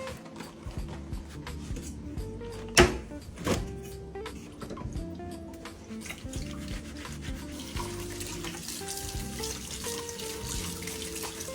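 Shrimp being rinsed under a running kitchen tap, with a steady splashing water stream into a sink at close range, a couple of louder knocks near the start and no talking.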